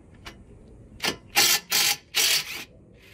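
A socket ratchet loosens the 13 mm upper and lower caliper bolts on the front brakes of a 2013 Audi A4. Several loud, close bursts of rapid clicking come in quick succession after a quieter start.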